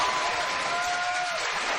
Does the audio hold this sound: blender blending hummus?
no